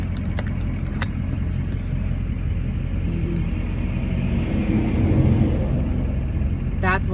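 A truck drives by on the road, heard as a steady loud low rumble of engine and tires, with a brief creak near the end.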